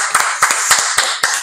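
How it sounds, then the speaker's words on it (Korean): A single person clapping, six crisp, evenly spaced claps up close and loud, with no other sounds. "박수 한번 치겠습니다."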